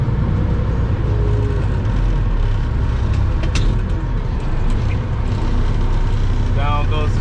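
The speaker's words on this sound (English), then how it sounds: "I'm reversing the drum right now." A cement truck's mixer drum turns in reverse to unload concrete, giving a loud, constant diesel rumble and mechanical churn up close, with a brief voice near the end.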